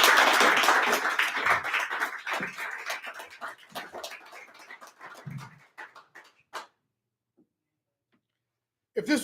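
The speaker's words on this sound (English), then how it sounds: "You guys make a warm round of applause for Farah." Warm audience applause for a poet at a poetry night in a pub, strong clapping at first that tapers off into scattered claps and silence, with a faint sound returning at the end.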